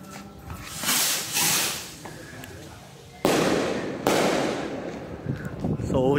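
Firework shots from a 100-shot cake pop and hiss at a distance, followed by two louder crackling bursts, with people talking faintly underneath.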